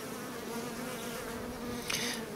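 Honeybees buzzing in a dense, steady drone around a queen during queen mating, close and continuous, with a brief brighter burst of buzzing near the end.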